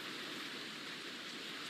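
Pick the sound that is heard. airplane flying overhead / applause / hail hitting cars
hail hitting cars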